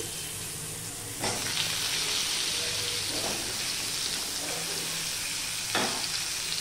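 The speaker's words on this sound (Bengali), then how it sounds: "পটলটা আগে আমি ভেজে নেব।" Pieces of pointed gourd (potol), salted, fry in oil in a pan with a loud, steady sizzle, and sharp bursts of hissing crackle mark moments of stirring. No one talks.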